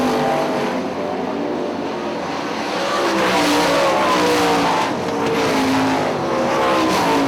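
IRA sprint cars race at Hartford Speedway Park in 2005, their engines a loud, continuous roar that swells and fades slightly as the pack runs down the backstretch and into turn three.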